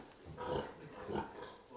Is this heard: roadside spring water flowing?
no